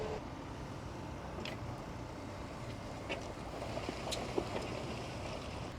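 A new McCormick X7618 tractor pulling a plough in a ploughing match gives a steady, distant broadband engine rumble under wind noise, with no talk.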